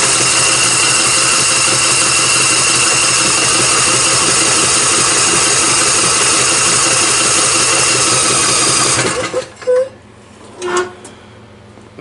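The small engine of an MTD race lawn mower with a lowered pulley runs at a loud, steady buzzing idle close by, then cuts out abruptly, leaving faint clanks and rustling.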